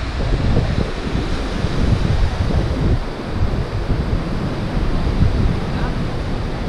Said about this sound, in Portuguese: o vento vai começar a fazer barulho